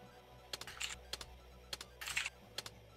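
Quick bursts of typing on a computer keyboard, clusters of crisp key clicks with short pauses between them, close and fairly quiet.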